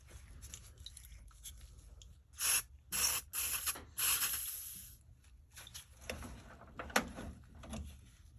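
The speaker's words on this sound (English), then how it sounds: "You guys know I love WD-40. All right, so let's get some spraying." Several short bursts of WD-40 aerosol spray hiss close by on a GE dryer timer, separated by brief pauses, then quieter handling and clicking noises.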